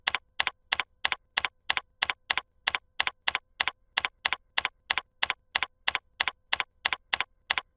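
Someone types a command on a computer keyboard: a steady, even run of about two dozen crisp, close key clicks, one after another with no pauses and no talking.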